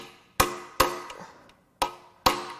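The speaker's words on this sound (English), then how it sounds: "We're going to hammer the incorrect size onto it." Four sharp metal-on-metal hammer blows, spaced unevenly, each ringing briefly before fading, as a wrong-size socket is driven onto a rounded-off exhaust manifold bolt on a blown Honda D17 engine during a teardown.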